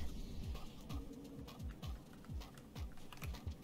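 The bird creature in the video game Rain World gives a faint, steady run of repeated falling chirp-like calls, about two per second, over soft background noise and clicking.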